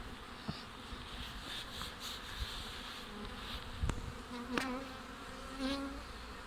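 Honey bees flying around their hives on a warm day after a cold spell, a steady buzzing swarm with individual bees passing close by now and then.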